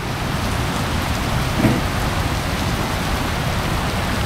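Steady rain falling in Florida, a continuous dense hiss with one brief louder knock partway through, no voices.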